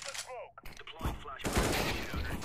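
Gunfire in Counter-Strike: Global Offensive, with bursts of shots cracking amid in-game action and other game sounds, while a voice briefly speaks early on.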